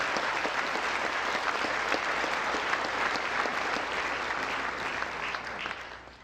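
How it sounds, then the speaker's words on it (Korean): Sustained, dense applause from a large audience at a national prayer breakfast, steady and loud throughout before thinning slightly at the very end. "다시 한번 뜨거운 박수 부탁드리겠습니다"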